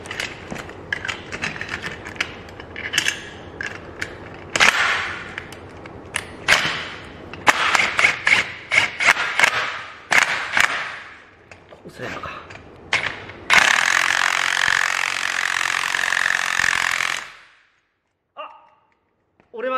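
An impact driver hammers a socket bit against a scaffold pipe clamp in repeated loud rattling bursts, ending in a long sustained impacting burst before the bit snaps and falls quiet; a few faint clicks follow.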